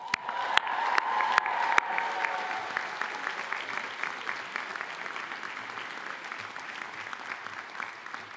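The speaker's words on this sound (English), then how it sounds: "You all deserve a round of applause." Graduates and guests at a diploma ceremony break into applause, opening with a few sharp, distinct claps before swelling into steady, even clapping from a large audience that carries on evenly to the end.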